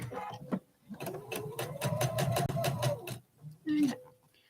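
A sewing machine stitches a quilt block with a 1/4 inch foot, its needle clattering in a fast, even burst of about two seconds, while a person talks briefly before and after.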